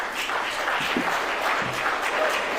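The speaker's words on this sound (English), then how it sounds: "Big applause." A big political rally audience applauds steadily and loudly throughout, dense sustained clapping with no pauses, crowd noise filling the space.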